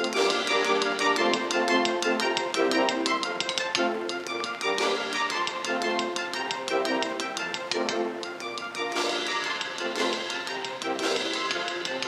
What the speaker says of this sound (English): with a brass band, it might sound like this.